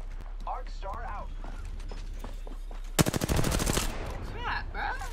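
Rapid automatic gunfire bursts out in the Apex Legends video game, a dense stretch of loud, evenly spaced shots, with talking before and after.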